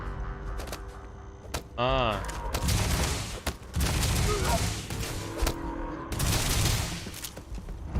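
Bursts of rapid gunfire from a cannon-type weapon in Starfield, with booming impacts and electronic effects, loud and close, over game background noise.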